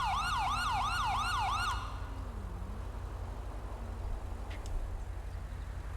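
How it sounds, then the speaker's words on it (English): A police siren in GTA 5 wails in a fast yelp pattern and then cuts off abruptly, leaving a low engine drone and road noise. "this siren pack is just way too loud."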